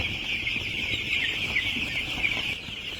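Broiler chickens on a poultry farm, a dense flock clucking and chirping together in a steady, moderately loud wash of sound.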